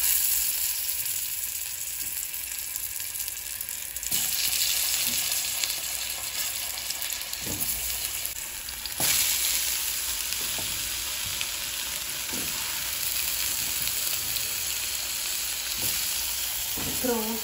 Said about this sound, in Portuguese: coloquei um temperinho aqui na batata, agora vou fritar